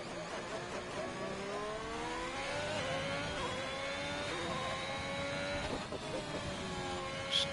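An F1 2021 race car engine whines and revs in the video game during a Netherlands Grand Prix qualifying lap, its pitch sweeping steadily upward with a brief dip near the end, heard continuously under a commentator's voice.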